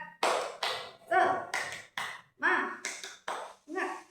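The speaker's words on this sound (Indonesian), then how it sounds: "Kalau kita tepuk semangat dulu biar tambah semangat. Tepuk semangat." A primary school class claps in a rhythmic spirit-clap pattern of about ten sharp, evenly spaced beats, close and loud, with voices chanting along.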